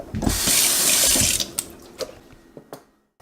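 Tap water runs hard into a kitchen sink to soak fish in salt water, a loud, close gush for over a second that is followed by scattered drips and small splashes.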